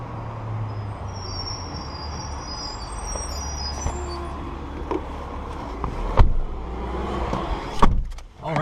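A car rides along with a steady low road rumble and engine drone, a faint whine overhead, and a couple of brief clunks and bumps near the end.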